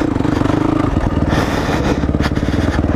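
A 2005 Yamaha WR450 dirt bike picks its way along a technical trail, its single-cylinder engine chugging loudly and close with low throttle blips and clutch work, plus some clatter and scraping.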